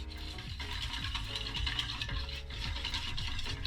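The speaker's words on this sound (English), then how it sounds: "we are going to whisk this on a low to medium heat until the mixture thickens and you get a nice creamy mixture" A whisk stirs pastel de nata custard mixture in a pan over low to medium heat, giving a steady, continuous scraping and swishing with a faint repeating rhythm, close and fairly quiet, with no talking.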